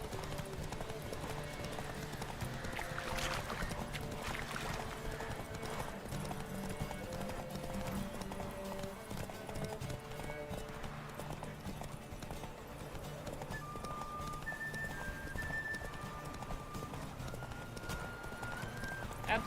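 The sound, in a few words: horse galloping in video game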